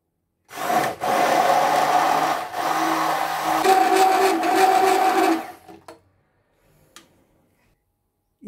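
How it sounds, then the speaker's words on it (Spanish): A handheld electric blender whirs loudly for about five seconds mixing flan cream, its motor pitch shifting slightly as it mixes, then cuts off leaving faint clicks. "para mezclar en segundos sin que queden grumos, batidora."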